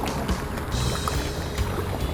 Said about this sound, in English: I paddled back that evening